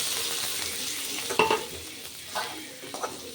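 Onions frying in a hot pan for egg Maggi, a close, steady sizzle with a few brief stirring clinks and scrapes, no one talking.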